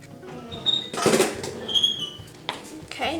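A spoon scrapes and clinks inside a slow cooker while creamy white chili ingredients are stirred, with intermittent knocks and scuffs close by and no talking.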